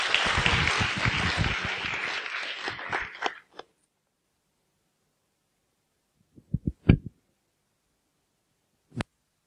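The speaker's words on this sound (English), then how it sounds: "So everybody give a big round of applause for Sreekanth Vadagiri." An audience applauds a speaker at a talk on programming flying robots, dense clapping for about three seconds that thins to a few scattered claps before silence, then brief handling knocks later.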